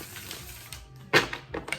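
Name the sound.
shuffling tarot cards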